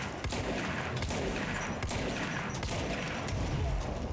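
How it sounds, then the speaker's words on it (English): Grenade explosions in the video game Control come as several sharp, booming blasts at roughly regular intervals, set against a rumbling, busy combat background with rattling gunfire-like texture. "Explosions. Dude, you need to stop throwing out grenades."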